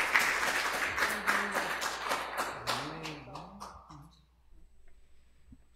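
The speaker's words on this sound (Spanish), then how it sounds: "Un fuerte aplauso, por favor." Audience clapping for a panelist at a legal-culture event, a steady patter of hands that fades out toward the end, with a voice talking over the first half.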